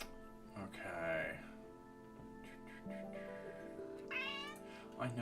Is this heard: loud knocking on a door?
no